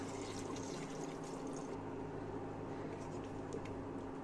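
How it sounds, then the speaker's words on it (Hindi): Water poured from a glass into a cooking pot where oil has separated to the sides, part of a potato and Kashmiri tomato curry in a Kashmiri village kitchen; a soft, steady splashing pour with no talk. "अब हम इसमें ऐड करेंगे पानी।"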